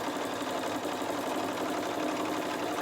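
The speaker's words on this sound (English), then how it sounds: "starting with a locking stitch and sewing along the full length of that project" A sewing machine runs steadily along the full length of a place mat seam, starting with a locking stitch, a continuous even whirring hum at moderate level with no talking.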